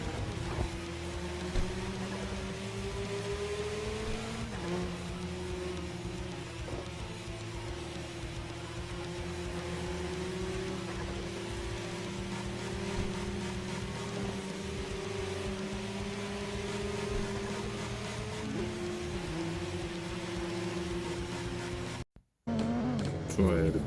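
Mazda RX-7 FD rotary engine in Tokyo Extreme Racer gameplay, a steady moderately loud drone whose revs climb and drop a few times, heard alone before a short break near the end.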